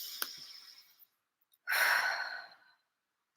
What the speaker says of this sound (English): go ahead and take a deep breath